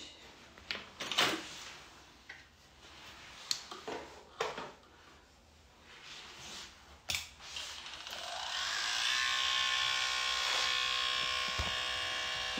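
An electric pet grooming clipper fitted with a number 7 blade, worn from heavy use, starts up after several clicks and knocks of handling and then hums with a steady, high buzz nearby.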